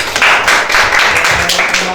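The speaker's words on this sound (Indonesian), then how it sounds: "Iya, tepuk tangan." Audience applause in a classroom teaching session, steady clapping from many hands filling the whole stretch, fairly loud and dense.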